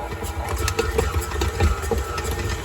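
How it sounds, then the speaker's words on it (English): A stand mixer beating churro dough, with a continuous low motor whir and slight rhythmic rattling that stays steady and fairly close throughout. "you're going to turn on the mixer"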